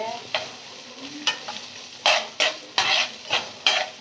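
Onions and green chillies sauté in oil in a pan for a vegetarian biryani, with about eight distinct scraping stir strokes in an uneven rhythm over a faint, close sizzle.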